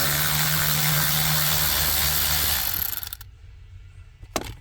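A T20 Torx screw is backed out of a 2009 Jeep Grand Cherokee dash with a power driver, a loud whirring buzz for about three seconds that cuts off, then quiet with a brief clunk.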